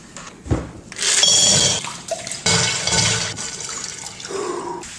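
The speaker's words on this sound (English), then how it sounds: "That dunking his head into the bowl of water is his signature move." A head is dunked into a bowl of water, giving several loud splashing and sloshing bursts with dripping between them, close and with no talk.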